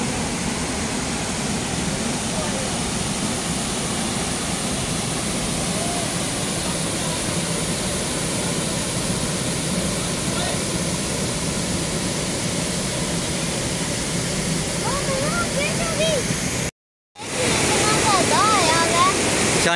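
Heavy rushing water of a waterfall in Shadara Valley near Islamabad, a loud continuous roar filling the whole clip with a brief break near the end, voices faintly audible over it.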